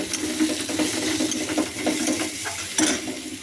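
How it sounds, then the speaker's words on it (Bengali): Fried rice is stir-fried in a home kitchen pan: a continuous close sizzle with scraping and stirring strokes of the spatula, loud and unbroken. "এই দেখো ফ্রাইড রাইস করছি"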